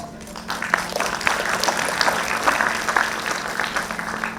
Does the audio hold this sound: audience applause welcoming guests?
yes